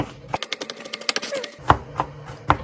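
A small kitchen knife chops onion on a board with a quick series of sharp close taps that slow to a few spaced cuts, with a low hum at the start and again near the end.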